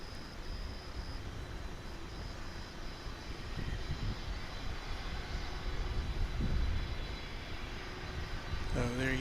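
An airliner takes off from a runway at DFW International Airport, bound for the US West Coast, with a broad, continuous jet-engine roar that swells gradually and stays strong throughout.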